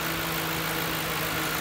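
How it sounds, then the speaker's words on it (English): A 2011 Ford Crown Victoria Police Interceptor engine idles quietly with the air conditioning on full, a steady even hum and whir without variation, heard close to the open engine bay. "I want you guys to hear how quiet this engine is."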